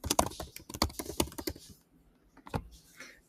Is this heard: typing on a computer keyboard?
yes